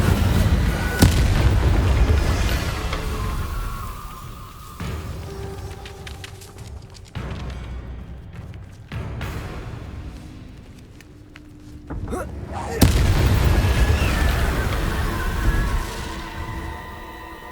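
Incendio fire spells cast in the video game Hogwarts Legacy sound as several heavy booming blasts and whooshing bursts, loud and near, separated by quieter stretches of game ambience.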